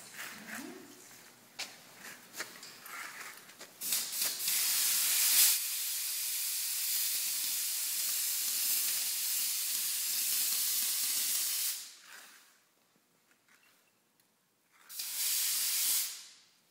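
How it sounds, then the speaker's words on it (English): A paint sprayer hisses onto theatre scenery fabric in a backstage scenic-painting shop, a loud, steady airy spray lasting several seconds, stopping, then returning in a second shorter burst, with a few faint clicks before it starts. "Using the paint sprayer."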